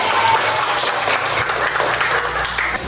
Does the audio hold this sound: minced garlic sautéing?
no